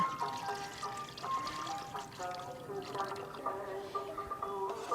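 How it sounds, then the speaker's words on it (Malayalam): Melted jaggery syrup is poured into coconut milk in a pan, giving a quiet, gurgling liquid trickle with small splashes, heard close and alone. "അതിൻ്റെ കൂടെ നമുക്കിനി ഉരുക്കി തരിച്ച് വെച്ച ശർക്കരയും കൂടി ഒഴിച്ചു കൊടുക്കാം"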